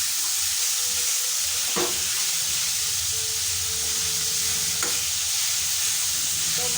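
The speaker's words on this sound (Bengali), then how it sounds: "এবার একটা চামচ দিয়ে একটু ঘেঁটে দেব।" A spoon stirs olive chutney in a hot pan, making a couple of brief scrapes over a steady, close sizzle and hiss of cooking.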